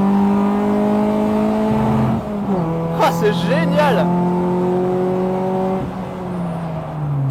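Cabin of an inexpensive front-wheel-drive race car while driving, loud engine drone with tonal whine dropping after a gear change, then steady again; someone speaks briefly in the middle.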